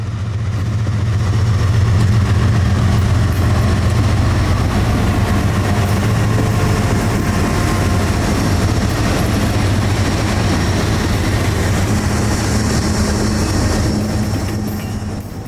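CSX I-044 intermodal freight train pulls out of Uceda Yard, a loud, steady low rumble of locomotives and rolling cars that holds throughout, with faint clanking over the drone and a slight fade at the end.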